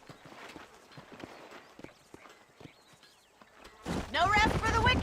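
Horse hooves clip-clop in the Red Dead Redemption video game, a herd of horses near Armadillo, starting after about four seconds as a louder, busy stretch of hoofbeats and motion following quieter game sounds with a voice earlier.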